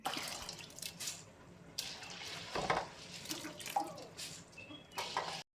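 Coriander seeds are swished and rinsed in a bowl of water, with intermittent sloshing splashes and drips in uneven bursts, no voices.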